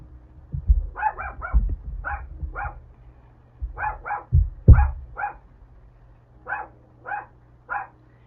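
A dog barks in short bursts of two or three, about a dozen sharp, fairly close yaps spread across the stretch, with quiet gaps and low thumps and background hum between them.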